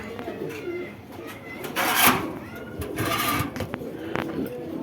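Pigeons coo and murmur at a busy pigeon market, a steady backdrop of soft calls with a few louder bursts, while traders talk over them throughout.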